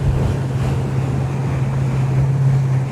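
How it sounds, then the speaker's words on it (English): A steady breeze rumbles across the microphone on Lake Guntersville while lake water splashes and laps against a boat, forming a loud, continuous wash of wind and water with no talking. "the lake is splashing on me."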